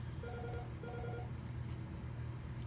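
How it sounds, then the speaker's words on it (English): A mobile phone rings indoors with two short repeating electronic tone bursts, faint and somewhat distant over a steady low background hum, with no voices. "my phone ringing is"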